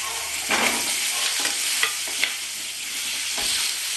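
Potatoes and turmeric hitting hot oil tempered with panch phoron, fenugreek and black cumin, giving a loud, continuous sizzle with bursts of crackling and a few scraping stirs, no voices.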